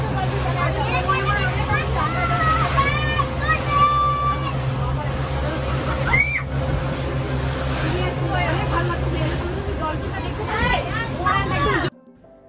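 A speedboat races across the Oman Sea, its engine a steady droning roar under a constant wash of wind and water, while several people, including a child, talk over it before the sound cuts off abruptly.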